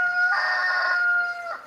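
A backyard rooster crows once, a loud, close, drawn-out call lasting over a second with a strong clear tone.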